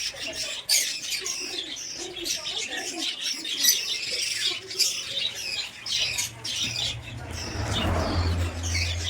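Lovebirds and pigeons in a bird house make busy, overlapping squawks and chirps at close range with some wing flutter, and a low rumble joins near the end.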